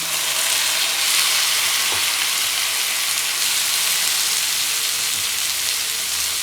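Tomatoes drop into hot oil with crackling cumin, giving a loud, dense, continuous sizzle that roars evenly throughout without any voices.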